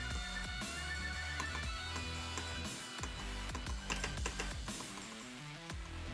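Rapid, faint clicking of a keyboard spacebar and mouse while playing Geometry Dash, tapped in quick bursts at close range, with game music underneath.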